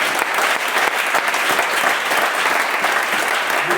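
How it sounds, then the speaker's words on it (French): A church congregation applauds and cheers in praise of the Lord, a dense, steady wash of clapping that fills the space without letting up. "On va acclamer le Seigneur."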